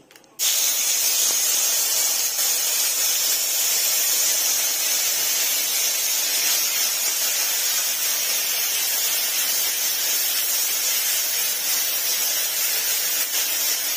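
Ginger-garlic paste dropped into hot oil, in the same oil used to fry cauliflower for chilli cauliflower, bursting into a loud, steady, spray-like sizzle that holds evenly for over thirteen seconds after a sharp start.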